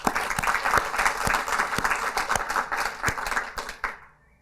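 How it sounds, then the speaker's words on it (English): A live audience at a scaling-up workshop at the Oxford Trust Innovation Centre gives a round of applause: dense, steady clapping from many hands with sharper individual claps, running several seconds before fading out. "I think we'll just give you a bit of a round of applause"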